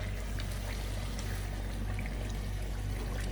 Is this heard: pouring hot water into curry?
yes